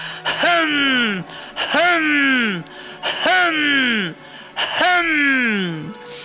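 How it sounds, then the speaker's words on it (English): Four forceful, breathy exhales of yoga lion's breath, tongue out, in a steady rhythm, each a voiced rush of air that falls away, close and loud. "Use the lion breath, tongue coming out, paws flaring up."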